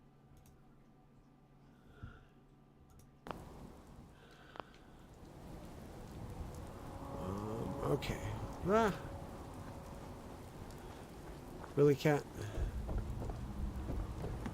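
Steady rain with rumbling thunder in the Fallout 4 game world, a broad wash that grows louder partway through, with a few sharper cracks and a person talking briefly over it.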